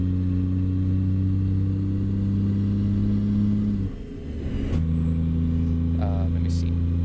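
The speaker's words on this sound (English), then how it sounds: "I might adjust the engine sound" A heavy truck engine in American Truck Simulator drones steadily at constant revs, dips briefly as if shifting or easing off, then resumes a steady loud hum with harmonic tones throughout.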